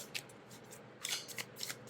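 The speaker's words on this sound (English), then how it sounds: "So this it doesn't stick when I do side shuffling." Side shuffling a travel-size Monstarot tarot deck gives quick papery riffles and card slaps in short bursts, close and alone.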